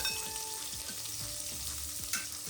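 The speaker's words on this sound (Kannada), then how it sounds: "ಜೀರಿಗೆ ಹಾಗೂ ಧನಿಯಾ ಕಾಳು ಇವೆರಡು ಎಣ್ಣೆಯಲ್ಲಿ ಫ್ರೈ ಆಗಕ್ಕೆ ಬಿಡಿ." Cumin and coriander seeds frying in oil with onion, garlic and curry leaves, a steady close sizzle with soft stirring scrapes throughout, no voices.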